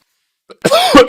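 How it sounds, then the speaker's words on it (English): A single short, close cough after a brief silence, with a rough throaty burst trailing off. "I have a cough."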